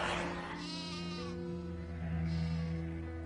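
Sheep bleat in a drawn-out, wavering call, soft and somewhat distant, with a second quieter bleat following against a steady background.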